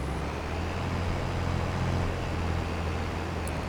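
Tractor engine in Farming Simulator 22, a steady low droning hum with a constant rumble running throughout, alone with no talk.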